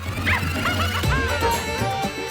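A dog barks and yips in short, sharp bursts with a brief whimper in a domestic scene from an Indian television series, loud and close with some voices underneath.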